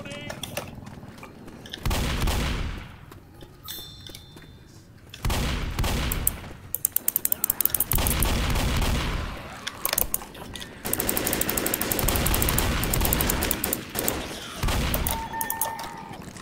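Bursts of gunfire from the zombie shooter game Left 4 Dead, loud clustered volleys and rapid automatic fire breaking up across the span, mixed with game noise and a voice talking over it.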